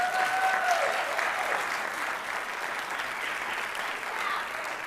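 An audience at a school board meeting applauds students of the month, a steady dense wash of clapping from many hands that holds at an even level for several seconds, with no talk over it.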